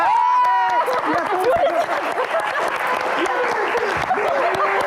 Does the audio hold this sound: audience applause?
yes